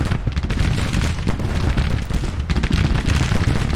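Artillery booms and gunfire roll through a Grand Tactician: The Civil War battle, a dense, continuous rumble of overlapping blasts and crackling shots with no break across the stretch.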